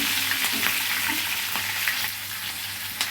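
Tempering of chana dal, urad dal and chopped green chillies frying in hot oil for a drumstick curry, a loud, dense crackling sizzle heard up close with a few faint stir clicks.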